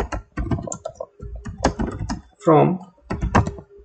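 Computer keys tap in quick bursts as an SQL subquery is typed, close clacking runs broken by short pauses, with a voice talking over much of it.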